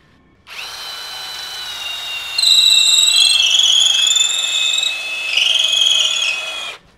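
DongCheng 12V cordless brushless impact drill driving a 10 mm, 30 cm auger bit, a loud, steady high-pitched whine that rises in pitch partway through and holds for several seconds before stopping abruptly.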